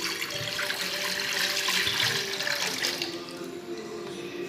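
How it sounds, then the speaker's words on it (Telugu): Water is poured into a flat pan to cook semiya prasadam, a close, loud, continuous splashing gush that fades slightly toward the end, with no talk. "ఇప్పుడు దీంట్లో వాటర్ వేద్దాం."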